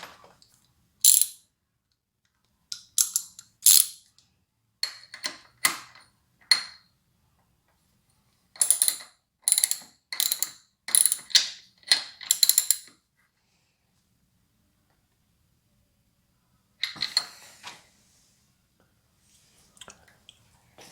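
A hand wrench ratcheting on the handlebar clamp of a Honda CRF450R dirt bike: short bursts of rapid clicking in irregular groups separated by silent pauses, close up, with no voices.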